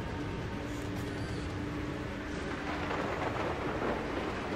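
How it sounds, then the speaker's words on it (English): A steady wash of rain pours through a thunderstorm in the prehistoric game Far Cry Primal, broad and constant for the whole stretch, with a faint low rumble beneath and no voices. "It's not safe to fly in a storm,"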